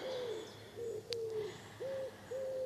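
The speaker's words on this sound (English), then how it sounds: "Maybe you can even hear the sounds of the birds on my end." In a park, a bird gives soft, low hooting calls in short spaced phrases over faint outdoor ambience, with one brief higher chirp partway through.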